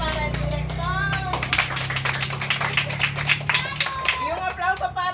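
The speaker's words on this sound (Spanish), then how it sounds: "Un aplauso para el director." Clapping for the director from a class audience at a Garifuna cooking course, scattered hands spread through the clip beneath ongoing speech and voices.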